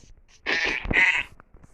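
A goat in Minecraft bleats twice in quick succession, a nasal, wavering cry, loud and close, with a brief thump between the calls.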